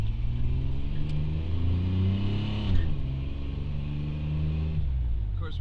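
A 1992 Chevy engine accelerates while driving, its rumble climbing steadily in pitch through the revs, easing briefly, then rising again over continuous road noise, loud and close to the microphone.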